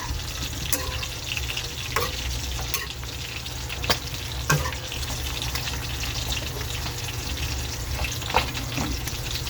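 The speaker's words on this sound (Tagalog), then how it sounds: "Ito, naputok pa yung ating piniprito" Food sizzles steadily in hot oil in a pan, with sharp pops and crackles bursting out every second or so, alongside occasional clinks and faint running water in a home kitchen.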